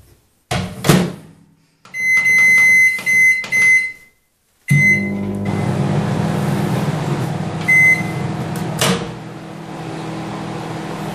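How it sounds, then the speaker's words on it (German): A microwave oven hums steadily after a few clunks and beeps, its low drone running on with occasional clicks and a brief tone. "in der Mikrowelle laufen lassen"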